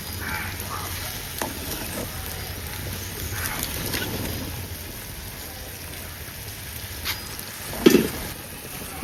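Food is stirred in a cooking pan over a low, continuous sizzle. Occasional scrapes and a louder clunk of the utensil against the pan sound near the end, with no voices over it.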